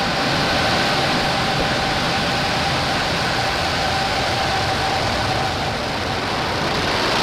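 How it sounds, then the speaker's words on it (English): A SpaceX Falcon rocket lifts off at full power carrying Starlink satellites, a loud, dense, unbroken roar of broadband rumble and crackle that holds steady for the whole stretch with no speech. "Full power. And liftoff."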